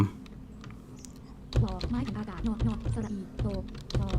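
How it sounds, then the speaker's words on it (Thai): Typing on a computer keyboard in a Windows 11 search box, a steady run of close, crisp key clicks with short pauses, heard under someone talking throughout. "เราสามารถพิมพ์ นะครับพิมพ์ในช่องตรงนี้ได้เลย"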